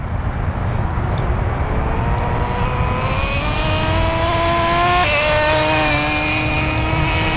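A Schumacher Menace 21 RC car with multi-speed shifting screams past at speed. Its loud, high engine whine climbs in pitch, drops sharply at a gear change, then climbs again.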